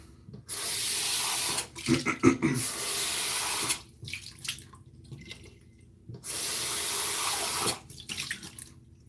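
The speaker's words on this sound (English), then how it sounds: "Rinsing out the bowl." Running tap water rinses out a shaving bowl, the loud rushing flow coming in two long bursts, with sloshing, clinking and rubbing in the pauses between.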